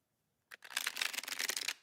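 A brand-new deck of playing cards split into small packets is shuffled by hand, giving a quick close burst of dense flicking and riffling that lasts just over a second after a brief tap.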